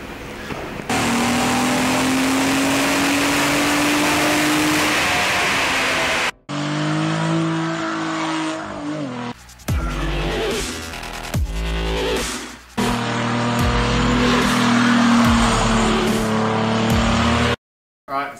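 A home-built race car revs and accelerates hard on a track, engine pitch climbing and dropping through gear changes, with tire skids and squeals across several loud, abruptly cut passes; no talking.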